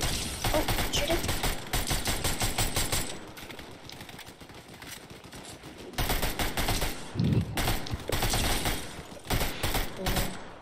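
Rapid automatic gunfire in a squad battle royale video game, sustained bursts that pause briefly and then resume loudly, with faint talk under the shots.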